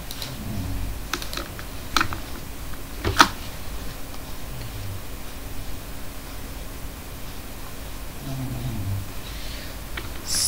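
Keys clatter softly on a computer keyboard while someone enters names into an Excel sheet: a steady run of light, close ticking taps over faint background noise, with a low voice murmuring briefly.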